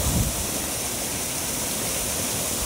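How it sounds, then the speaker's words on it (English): Steady broadband rush of river water cascading through a dam on the Rio Piribebuy near the town swimming pool in Paraguay, continuous and close, with no voices. "Here the water cascades through the dam and off down the river."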